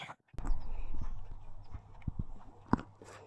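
Horse hooves clip-clopping at a walk during a horseback ride, irregular hoof strikes of moderate loudness with a sharper knock near the end and soft rustling in the background.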